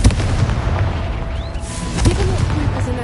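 A Confringo fire spell explodes in the video game Hogwarts Legacy, giving a deep boom and burst near the start and another around two seconds in, over a busy game background.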